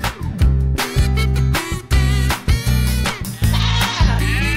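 A goat bleats loudly and close up in a run of about five wavering, nasal calls, each lasting close to a second, with short breaks between them.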